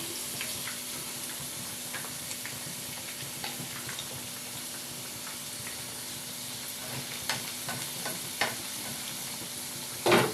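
Potato slices shaped into rose petals fry in hot oil for chaat, a soft steady sizzle close by, punctuated by faint clicks and stirring taps and a louder clatter at the end.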